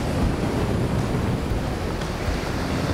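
Strong wind and sea surf roar together at Torre dell'Orso beach on the Salento coast of Puglia, near sand dunes and a cliff. The noise is loud, steady and dense throughout, with buffeting wind on the microphone.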